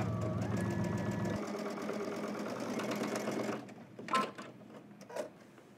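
A sewing machine stitches fabric while following the Simplicity S3038 pattern, running in a steady rapid whirring rhythm for several seconds before stopping, then a few faint clicks and handling sounds close by.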